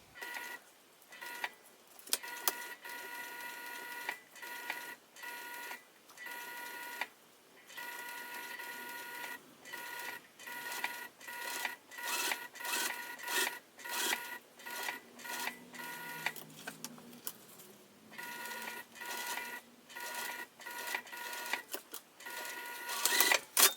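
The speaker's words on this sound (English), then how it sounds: "This is just to hold everything in place. It's just a basting stitch." A sewing machine runs a basting stitch along a bag in sped-up bursts, quick mechanical whirring runs broken by short pauses, fairly faint and close with no talking.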